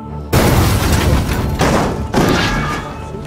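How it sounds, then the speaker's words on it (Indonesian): A tank shell explodes in a war film, a loud, close, booming blast with heavy rumble, followed by two further thudding impacts that trail off into debris noise. "tentara Amerika yang baru saja tiba di kota menembaknya dengan peluru tank, mengirimnya terbang dari ledakan itu hingga tewas"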